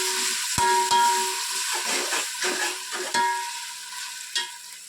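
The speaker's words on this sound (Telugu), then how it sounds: "2 నుంచి 3 స్పూన్ల వరకు అల్లం పేస్ట్ను వేసి పచ్చివాసన వెళ్ళేంత వరకు బాగా ఫ్రై చేసుకోవాలి" Ginger paste and mint frying in a pan; a soft sizzle sits under repeated clinks and scrapes of a spoon stirring, with irregular taps and short bursts of hiss.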